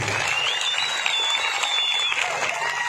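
Audience applause at a Yakshagana performance, a brief burst of steady clapping from a crowd with a whistle-like tone and some voices mixed in.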